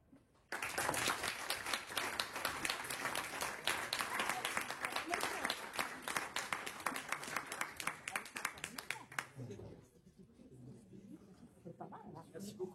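Audience applause at a contest final after a speech, dense sustained clapping from a crowd that swells then stops abruptly, followed by scattered voices and noise.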